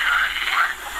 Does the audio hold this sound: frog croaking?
yes